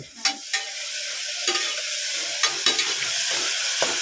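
Onions fry in a pan with a soft, steady sizzle, punctuated by several sharp clicks and scrapes as they are stirred, heard close up with no voices.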